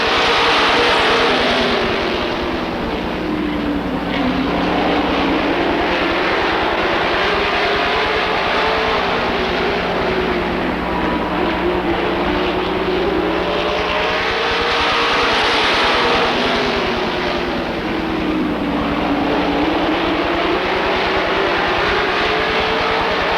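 Race cars roar around Rockford Speedway after the green flag, a dense continuous engine howl with slow rising and falling sweeps as the pack passes, loud and unbroken throughout.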